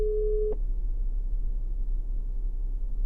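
Outgoing phone call tone from a Siri-dialed call through an Ottocast U2-X Pro CarPlay adapter, a single steady tone that cuts off after half a second, leaving low hum and background noise.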